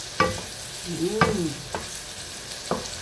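Onion and garlic frying together in a pan, a steady low sizzle broken by a few sharp spatula scrapes and clinks, close and moderately loud, with no talking.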